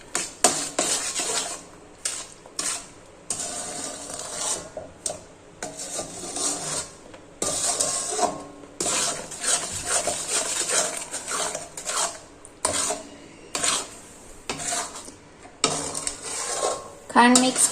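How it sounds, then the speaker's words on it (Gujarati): Sugar being stirred into a milk mixture in a pan over a low flame for saffron peda, with repeated close scraping and rasping strokes of a spoon against the pan in an uneven rhythm, a few pauses between strokes. "હવે પ્રોપર રીતે મિક્સ કરી દેશું ખાંડને."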